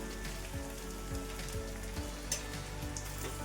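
Brinjals frying with onion and masala in a pan on low gas, a steady soft sizzle with faint crackles and occasional utensil knocks, close and alone.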